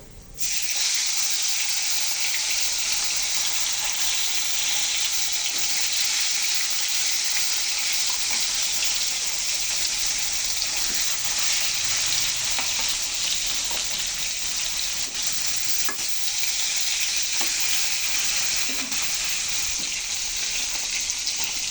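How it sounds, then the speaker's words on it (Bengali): Small Japanese puti fish fry in hot oil with a little turmeric, giving a steady, loud, close sizzle that fills the whole stretch without letup and with no talking. "এখন আমি মাছগুলো বেজে নিচ্ছি"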